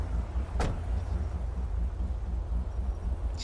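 A car door in the GTA 5 video game shuts with a single sharp thump as someone gets in, set against a steady low engine rumble with no talk.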